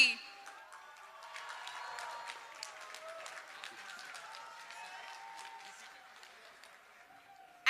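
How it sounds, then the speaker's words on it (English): Audience applause at a New York gathering of the Indian diaspora for a political address, steady clapping spread across a large crowd at moderate distance, with faint voices and cheers mixed in. "huge round of applause for Mr."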